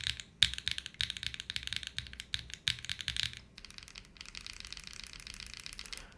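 Typing on a Jris75 mechanical keyboard with a polycarbonate plate and long-pole switches, a rapid close clatter of keystrokes in bursts, then a brief gap and a softer, steadier run of typing.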